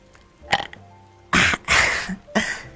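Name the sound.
burp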